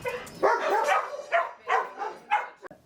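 A shelter dog gives a quick run of about five sharp, close barks at a steady pace, heard alone.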